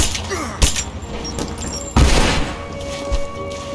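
Combat in the video game Rise of the Tomb Raider: a grenade blast booms with a deep thud amid scattered gunshots and rumbling impacts, loud and close, with overlapping battle noise throughout.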